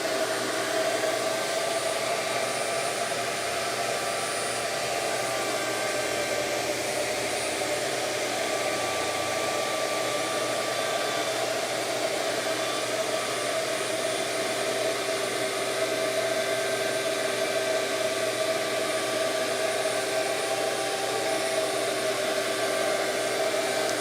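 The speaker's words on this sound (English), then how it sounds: "now Origin's going to bring Jake into that finished pass, just that last couple thousandths of an inch" A Shaper Origin handheld CNC router makes a finishing pass around an arched door panel, giving a loud, steady, unbroken whine and rush of air that holds constant throughout with no talk.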